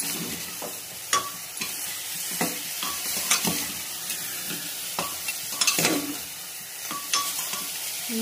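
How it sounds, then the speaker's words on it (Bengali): Mutton for a homemade mutton soup sautéing hard in a pan on high flame, with a steady sizzle and repeated scraping stir strokes and utensil knocks at a close, even level, no voices. "একটু আমি আঁচটা বাড়িয়ে দিয়ে মাংসটা কষিয়ে নিই"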